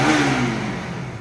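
A Bajaj Pulsar RS200 motorcycle engine with a meter-drop and misfiring fault revs briefly, one loud close burst of throttle that sweeps up and then fades as the revs drop.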